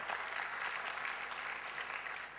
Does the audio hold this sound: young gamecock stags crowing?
no